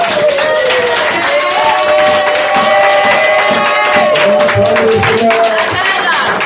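Congregation at a prayer service for the sick loudly cheering and clapping in praise, a continuous roar of voices and applause with a voice and sustained tones carrying over the crowd.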